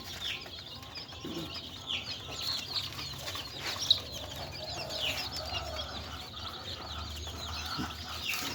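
Hens with their newly hatched chicks give soft clucks and thin, high peeps, faint and scattered over a quiet farmyard background.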